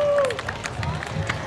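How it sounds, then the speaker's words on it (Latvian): Applause and cheering for a preschool children's class marching as little sailors in a town festival parade, a brief burst of clapping and crowd noise outdoors under a passing tone, with no talk. "Un Anda, aplausu viņiem!"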